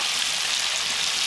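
Steady, dense sizzling of chicken deep frying in hot oil, a continuous hiss with no breaks.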